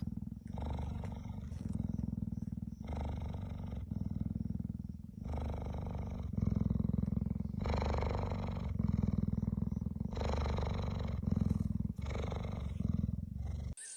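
A cheetah's deep, steady rumbling purr rolls on in long pulses of breathing in and out, close and continuous with no voices.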